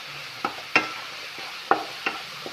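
Salted onions frying in a pan for sardine biryani being stirred, several distinct scraping strokes over a low, steady sizzle, close and clear with no voices.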